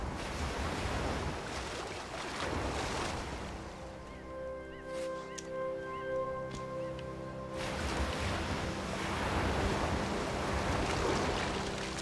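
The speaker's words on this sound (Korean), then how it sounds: "와, 파도 오는 방향 진짜 리얼하다" Ocean waves in the video game Unravel roll and wash in a steady surf roar, fading for a few seconds under a soft sustained musical tone before surging back.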